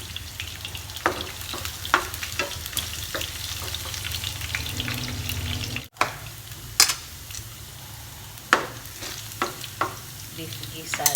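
Beef guisado sizzles steadily in a pan with oil and garlic, punctuated by repeated scraping and clacking as a utensil stirs the mixture, with a brief pause midway.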